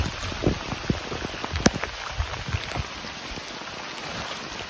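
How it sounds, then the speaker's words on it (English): Heavy rain pours down steadily in the woods of northern Algonquin Park near Kiosk Lake, with scattered sharp drips and taps against nearby surfaces over a constant wash of noise. "It's just pouring rain right now"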